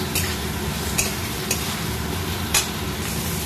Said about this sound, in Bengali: পেঁয়াজটা আগে একটু কষিয়ে নিচ্ছি, দিয়ে দেবো একটা টমেটো কুচি